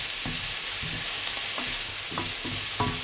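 Mixed vegetables stir-frying in a hot pan with a little oil and vegetarian seasoning sauce, giving a steady sizzle broken by rhythmic scrapes of a spatula roughly every half second.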